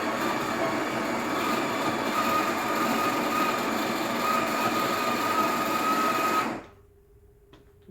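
A Breville Barista Express BES870 grinds fresh coffee beans at grind size 4 with a loud, steady burr-grinder whir that runs continuously for several seconds, then cuts off abruptly, leaving a faint low hum.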